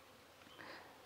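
Honeybees hum softly at a hive in an Indian beekeeping setting: a faint, continuous buzz that swells slightly near the end, with no voices.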